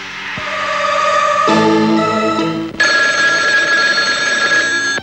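A telephone rings loudly in a 1994 Pakistani film scene, with sustained electronic tones that change pitch in separate bursts and a short break between them.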